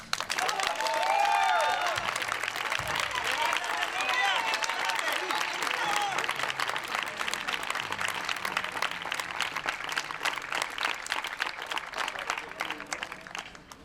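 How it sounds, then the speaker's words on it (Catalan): A large concert audience applauds loudly and steadily, the dense clapping sustained throughout with some cheering early on, then gradually thinning toward the end. "Per a ells, un fort aplaudiment"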